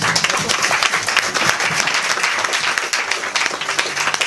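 A church congregation bursts into sustained, dense applause during a French-language worship service, steady clapping from many hands filling the space with little speech underneath.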